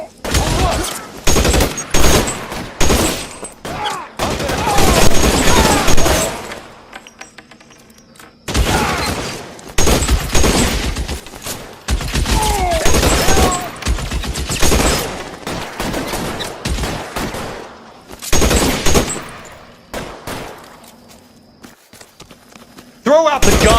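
A gunfire shootout in LA Noire, with loud bursts of rapid shots broken by pauses, mixed with shouted voices and talking throughout.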